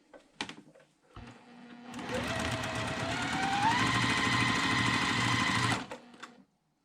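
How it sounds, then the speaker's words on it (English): A sewing machine stitching a quarter-inch seam on quilt blocks: a steady, close mechanical whir lasting about four seconds that rises slightly in speed, with clicks and handling noise before and after. "then we're just going to sew 1/4 inch seam"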